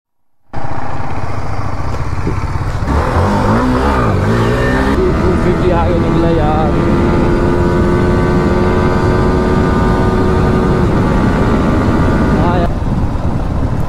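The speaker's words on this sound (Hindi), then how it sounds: "ये देखो सारी बाइक आ चुके हैं यार" Motorcycles, a Yamaha R15M and a KTM Duke 250, arrive with loud, close engine noise that starts abruptly and holds a steady roar with shifting revving tones for over ten seconds.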